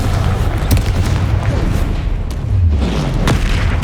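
A Confringo fire spell blasts in Hogwarts Legacy amid a loud, dense battle din, with booming thumps and several sharp bursting cracks over a continuous roar.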